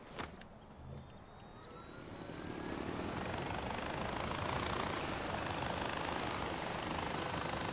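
A helicopter in Far Cry 4 builds from a faint start into a loud, steady rotor-and-engine roar that holds close and continuous to the end, with no voices.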